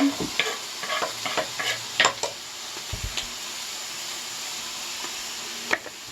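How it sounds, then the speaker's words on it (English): Vegetables for a spicy chicken stir fry sizzle and fry in a pan, with a steady hiss and intermittent scraping and stirring clatters from a utensil. "I'm going to stick all this into the frying pan as well."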